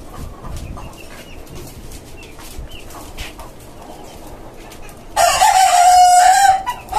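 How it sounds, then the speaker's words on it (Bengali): A white rooster crows loudly and close by near the end, a single long call after several seconds of quiet background noise, at a rooftop chicken farm. "ওদের বাবা হচ্ছে এই সাদা মোরগটা"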